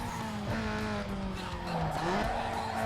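Cars from the racing game Need for Speed Underground 2 rev and drive with skidding, squealing tires, a continuous loud engine drone shifting in pitch across the whole stretch.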